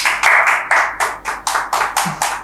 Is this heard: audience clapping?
yes